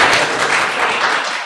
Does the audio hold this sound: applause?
yes